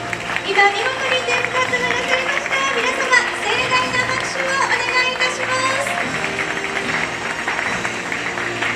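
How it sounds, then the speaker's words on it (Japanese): A crowd applauds after a ribbon-cutting ceremony honouring the SL Yamaguchi steam train's 35-series passenger coaches for a 2018 Blue Ribbon Award. The clapping is steady and fairly loud for about nine seconds, with sustained tones running over it. "皆様盛大な拍手をお願いいたします。"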